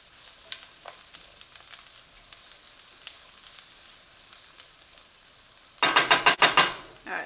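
Garlic sizzles softly in a pan with scattered crackles, then a utensil scrapes and knocks against the pan in a quick burst of about five loud strokes near the end.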